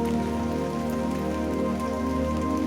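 Steady rain falls on a surface in a dense, even patter, close and constant with no pauses or voices.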